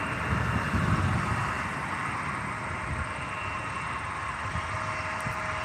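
A Delta Embraer E175 jet at Albany International Airport gives a steady, broadband engine roar that stays loud and even throughout, with a deeper rumble swelling near the start.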